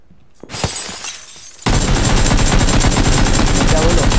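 Gunfire in the video game PUBG: after a quieter stretch with a few isolated shots, a loud sustained burst of rapid automatic fire erupts and continues steadily to the end.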